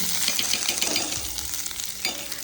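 Onion, garlic and ginger roast in a kadhai with a loud, close crackling sizzle, broken by scraping stirs and small knocks of a spoon against the pan, and no one speaking.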